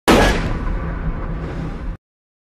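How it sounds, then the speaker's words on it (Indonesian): A single loud gunshot bursts out at the start and leaves a long, rumbling reverberant tail that fades before cutting off abruptly into silence. "sehingga melepaskan tembakan terhadap George"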